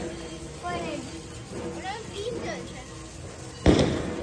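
Children talk and chirp excitedly, then a single loud chocolate bomb firecracker blast pops close by, ending abruptly.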